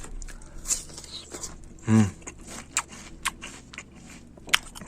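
A single crunchy bite into a firm, juicy Asian pear, followed by faint chewing and small clicks in a quiet setting.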